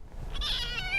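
A single short, high-pitched cat meow, close and clear against quiet background noise.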